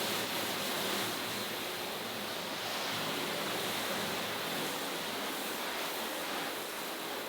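Cheap battery-powered foamer spraying water at roughly 8 gallons a minute, producing a steady, loud, broadband hiss that continues without a break.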